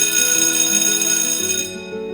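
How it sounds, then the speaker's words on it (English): A school bell rings continuously at an annual day event, a loud, bright metallic clang that sustains before cutting off near the end. "The bell rings."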